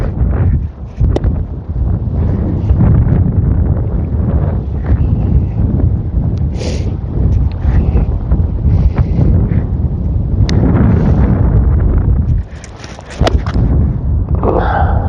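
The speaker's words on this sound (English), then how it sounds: "It's a bloody strong wind." Strong gusting wind on a golf course buffets the microphone with loud low rumbling roar, steady throughout with brief dips and a few faint clicks.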